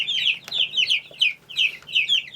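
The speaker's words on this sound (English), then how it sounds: "Okay, little chicks, off you go." Young chicks peep and cluck around a dish of non-medicated starter chick feed, a close, busy chorus of high, rapid chirps repeating in quick clusters with no talking.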